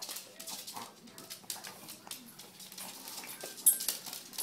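A dog whimpers softly in a quiet room, faint short whines and snuffles scattered among light clatter and rustling, with a brief louder sound near the end.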